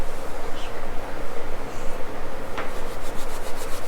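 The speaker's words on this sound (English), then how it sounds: "now you put it between your hands and you rub it" Dried spice rubbed between two hands for chili makes a close, continuous dry scratchy rustle, steady and gritty throughout.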